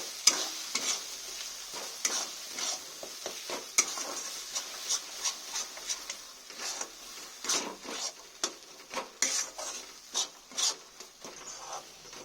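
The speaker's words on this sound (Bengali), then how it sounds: "ভালো করে কষে নেব।" Okra stir-fried in oil in a pan for a Bengali okra mash, a spatula scraping and stirring in steady repeated strokes over a continuous close sizzle, with no voices.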